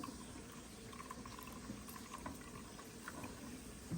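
Liquid is poured down the side of a pan of pig feet being prepared for baking in the oven, giving a faint, continuous splashing trickle with no voices.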